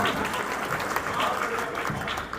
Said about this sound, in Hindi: इसके लिए ताली बजाओ एक बार।